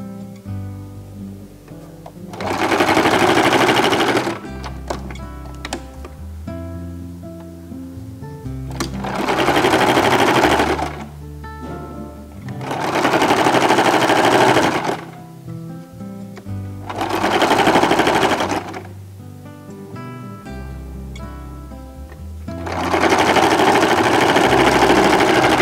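A sewing machine stitches fabric in four long loud whirring bursts separated by quieter pauses with faint clicks and handling, close and steady during each run, no talking.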